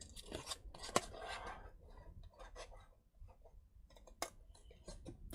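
Scissors cutting paper along a line for a craft project: a run of close, quiet crisp snips and rustles at an uneven pace, with no talking.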